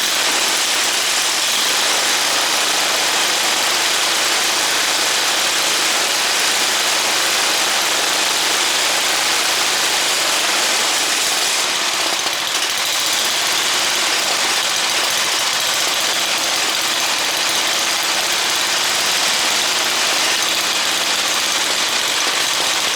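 A snow blower's small engine running on a replacement aftermarket carburetor settles into a steady idle, a continuous hissy mechanical drone close to the microphone with no voices.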